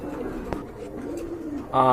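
A pair of pigeons at a breeder's loft coo softly under talk, with a sharp click near the middle and a louder burst of sound near the end.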